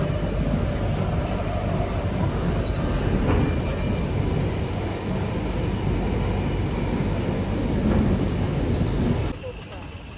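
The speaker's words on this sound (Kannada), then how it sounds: "ಮೆಟ್ರೋ ಹತ್ತಿದ್ದೀವಿ, ಹೊರಟಿದ್ದೀವಿ" Inside a metro train riding from Bommasandra, a steady loud rumble of wheels on rails with faint high squeals, continuous until an abrupt drop near the end, with possible faint voices underneath.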